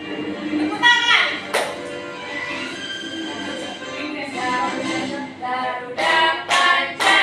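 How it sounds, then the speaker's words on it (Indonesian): Schoolchildren in a classroom clap their hands in short bursts of rapid claps, loud and close, amid a teacher's and children's voices. "Tepuk tangan."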